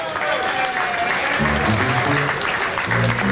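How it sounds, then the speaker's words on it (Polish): A crowd at a rock'n'roll concert at the Blue Note club in Poznań applauds with steady, dense clapping throughout, while music begins to play underneath partway in. "Wielkie brawa!"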